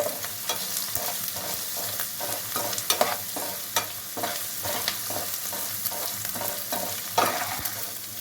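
Mutton pieces seasoned with rock salt and turmeric fry in oil, giving a loud, steady sizzle with regular stirring scrapes throughout and no voices.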